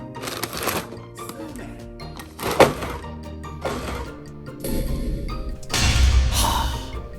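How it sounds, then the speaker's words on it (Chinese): Cola is used to craft a low, muffled explosion sound effect for a game, heard as several bursts of fizzing, rustling noise with a few dull thumps, close to the microphone. "好，还需要一个低沉的爆炸声。"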